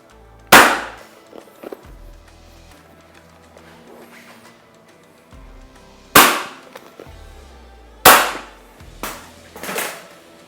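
Electric staple gun firing into a motorcycle seat cover, four sharp loud snaps spaced a few seconds apart with faint handling rustle and a low hum between shots.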